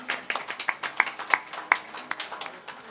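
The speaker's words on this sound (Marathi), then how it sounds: "मोठ्याने टाळ्या होऊ द्या." An audience at a cultural club event in Goa claps in a steady stream of sharp, fairly close handclaps. The applause is moderate and irregular and keeps going for the full three seconds.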